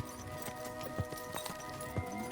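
Horses' hooves clip-clopping at a slow walking pace in the video game Kingdom Come: Deliverance 2, a steady series of distinct knocks over a quiet, continuous background.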